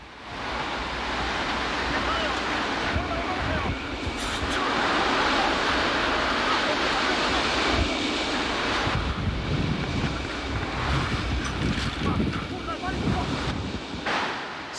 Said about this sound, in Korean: 파도는 조금씩 가라앉고 있었습니다.